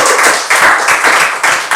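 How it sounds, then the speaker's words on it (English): Applause for a male contestant on a husband-versus-wife couples game show, heard as a steady dense patter of clapping with small surges, fairly close and loud, with no voices over it. "A round of applause for the man."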